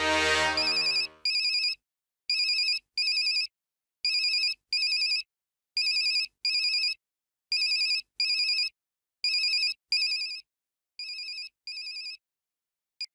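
A mobile phone ringtone plays alone in repeated bursts of bright electronic tones, pausing evenly between each burst, with nothing else heard.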